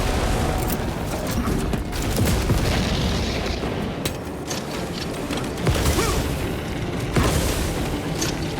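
Grenade blasts in Warhammer 40K: Space Marine 2, a dense battle din of loud booming explosions and crackling mechanical clatter, with repeated heavy bursts rising out of a constant roar, alone without talk.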